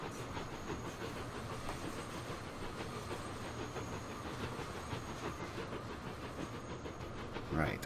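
A train rolls along rails in Transport Fever 2, a steady, faint rumbling hiss of wheels and carriage noise with a thin high whine running throughout.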